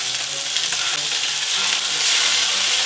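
Beef for stroganoff searing in a hot pan, giving a loud, dense, continuous sizzle that holds steady and swells slightly toward the end.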